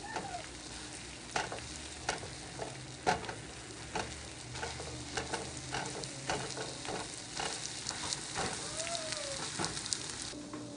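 An egg frying in hot oil in a pan, a steady crackling sizzle with scattered sharp pops and spatters, close and fairly quiet, no talking.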